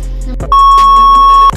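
A cellphone gives one long, steady electronic beep to warn that its memory is full. The tone holds evenly for about a second against a quiet background.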